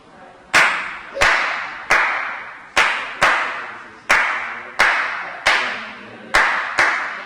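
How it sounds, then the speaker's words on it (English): Sharp hand claps beat out the Afro-Cuban clave pattern, three strikes then two, repeating in a steady cycle; each crisp clap rings close and loud with no talking. "So the clave rhythm is a rhythm that uses 3 beats and then 2."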